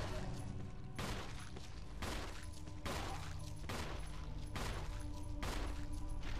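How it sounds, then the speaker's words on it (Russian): Handgun shots at zombies in Resident Evil Remake, played as Chris, come as about seven loud, sharp reports at roughly one-second intervals, each followed by a short ringing decay, with no talk. "Давай, стреляй, Крис."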